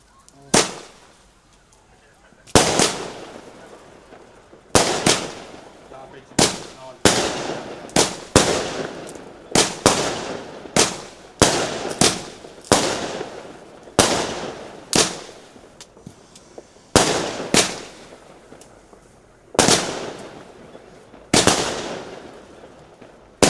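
Fireworks go off as a series of loud, sharp bangs spaced a second or two apart, each followed by a fading rumble. There are brief quiet gaps between the blasts, and the barrage runs for over twenty seconds.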